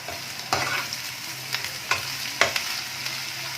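Chopped onions and the white lower stems of spring onions softening in hot oil for pepper garlic chicken, a continuous low sizzle broken by several sharp stirring scrapes at irregular intervals, near and without voices.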